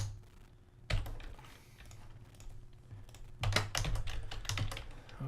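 Computer keyboard typing while code is edited in a game project, with quiet scattered keystrokes at first, then a burst of quicker, louder clattering bursts near the end; no talking.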